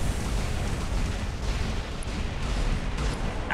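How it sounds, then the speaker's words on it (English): Airstrike explosions from Zenith robots pound away in the War Robots video game, a dense, continuous low rumble of overlapping blasts with no clear gaps, steady and loud throughout. "these airstrikes hurt so much"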